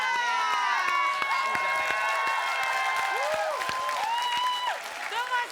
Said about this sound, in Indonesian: sekarang kita berikan tepuk tangan untuk Mas Dece, Mas Lesus, dan Mas Topan